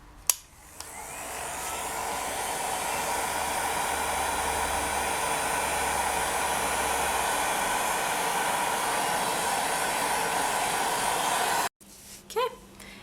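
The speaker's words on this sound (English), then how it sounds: "you can use a heat gun if your tile can't fit in the oven to just heat set them" A heat gun heat-sets polymer clay pieces on a tile with a loud, steady blowing roar that runs for about eleven seconds before cutting off abruptly, followed by a few light clicks.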